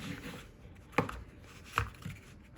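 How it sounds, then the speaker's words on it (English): Two quiet, sharp clicks about a second apart, with a softer tap after, against faint background noise. "You can hear the retention click."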